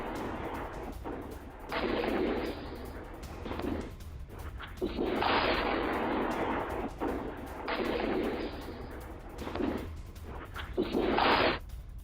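Iranian missile strike explosions on the Israeli town of Arad, recorded by CCTV: repeated heavy booming blasts and rumbling roars, several long loud bursts separated by short lulls, with no speech.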